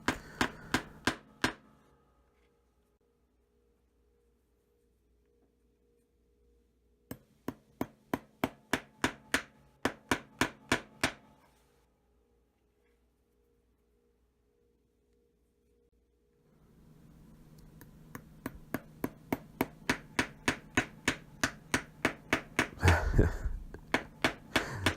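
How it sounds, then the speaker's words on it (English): Bursts of rapid, regular hammer blows on large nails, separated by quiet pauses, with a humming background during the later stretch. "I'm amused at my own hammering technique"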